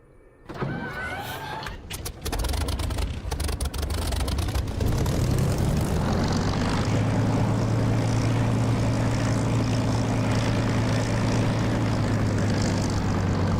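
A Spitfire piston engine in the DCS flight simulator cranks with clattering starter pulses, catches after a few seconds and settles into a loud, steady propeller drone with a low throbbing hum.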